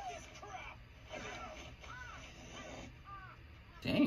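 Crows caw in a Demon Slayer anime episode, their calls repeating at moderate volume beneath talking voices, with a sharp louder sound at the very end.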